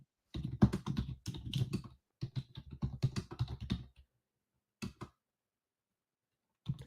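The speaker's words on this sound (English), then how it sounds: "And again, I'm just typing." Rapid clattering keystrokes on a computer keyboard in two dense bursts, then a few isolated taps after pauses, close and crisp with no speech.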